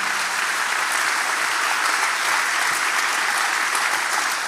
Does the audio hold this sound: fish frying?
no